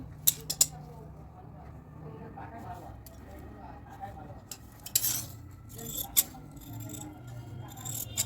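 Scissors cut the front parts of a blouse from fabric, making a few crisp snips at irregular intervals over soft handling noise, with a person talking throughout.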